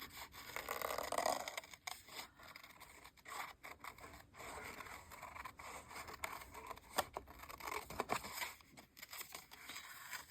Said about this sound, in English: Get my good scissors.